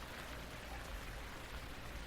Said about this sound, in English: The rain finally starts to let up from deluge to drizzle